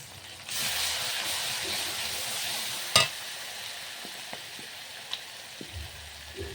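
Ground cumin, coriander and chilli powder sautéing in a pan for ghugni give a steady, soft sizzle and hiss, with a sharp clink of a spoon against the pan and a few lighter taps of stirring.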